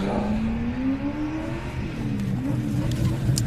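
Drift car at the British Drift Championships 2022, Teesside round, pulling away after a battle; a steady engine drone rises gradually in pitch as it moves off, loud and close, with no talk.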